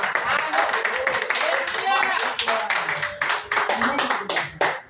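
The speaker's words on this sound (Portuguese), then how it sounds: "Uma salva de palmas para Jesus" Church congregation claps along during a Portuguese-language evangelical service, rhythmic hand claps close by mixed with voices and murmuring throughout.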